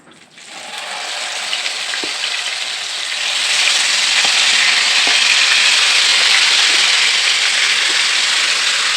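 Chicken pieces for biryani frying in hot oil, a continuous loud sizzle that starts quietly, builds within a second and swells again midway, with faint occasional clinks and no talk.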